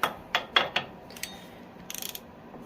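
A ratchet wrench loosens a 13/16 nut on a small engine, with a few knocks and scrapes followed by a quick run of fine ratcheting clicks, close by and moderately loud.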